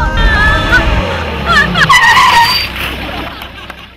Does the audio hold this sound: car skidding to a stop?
yes